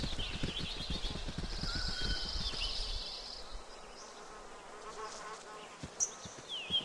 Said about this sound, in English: I hear a fly is buzzing